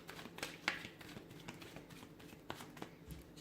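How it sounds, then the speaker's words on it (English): A deck of cards being shuffled at a table during a card reading: quiet, scattered riffling and snapping bursts with a few sharper card slaps, heard alone with no talk. "Let me give the cards a shuffle here."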